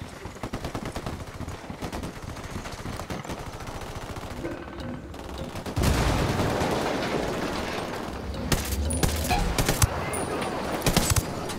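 Bursts of automatic and single-shot gunfire crackle in Ghost Recon Wildlands as Unidad troops engage the cartel near a checkpoint, loud and repeated, growing denser and heavier in the second half with sharp isolated cracks near the end.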